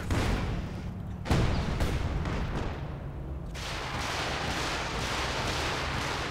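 A Wurfrahmen rocket barrage launching in the World War II strategy game Company of Heroes 2, heard as loud rumbling blasts and bursts in quick succession that give way to a sustained roaring wash of fire and explosions, no speech.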